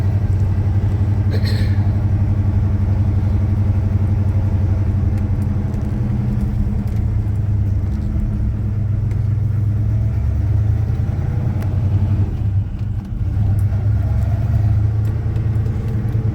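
An old Chevy C10 truck engine drones steadily while driving, a continuous low rumble with a faint mechanical hum and occasional light rattles throughout.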